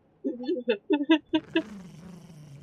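A small lapdog in the video game Secret Files 3 gives a run of short, close growling bursts with a purring, revving quality, then a lower, steadier rumble trails off near the end.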